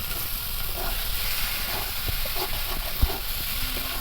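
Egg bhujia and boiled potato curry with spices are stirred in a hot pan, a broad hissing sizzle under occasional spatula scrapes and one sharp knock near the end.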